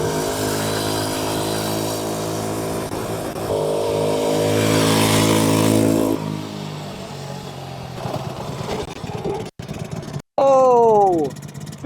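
A cheap motorcycle bought on Amazon strains loudly under load while being ridden, a droning engine that climbs in pitch and cuts out briefly near the end before surging again in a rising whine.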